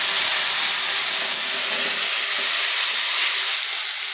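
Thin Bengali fish curry broth with cauliflower boils hard in a pot, making a continuous loud bubbling hiss and sizzle close up, steady throughout with no talking.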